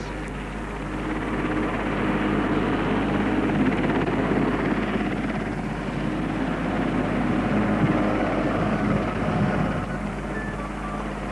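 An RAF helicopter hovers about 200 feet above a chapel while lowering a spire into a steel framework, its steady, loud rotor and engine roar continuing without a break throughout.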